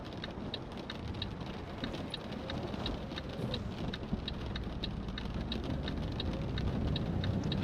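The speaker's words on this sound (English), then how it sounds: "Oh, a little bit of thunder." Steady rain in Euro Truck Simulator 2 patters continuously with a faint regular ticking, as if on a truck cab, while a low rumble of thunder rolls underneath; fairly quiet, with no talking.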